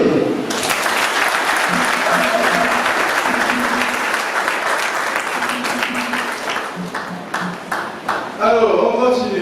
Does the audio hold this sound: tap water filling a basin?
no